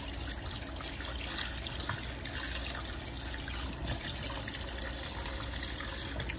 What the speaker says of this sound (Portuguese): Depois desse processo aí de enxágue na água corrente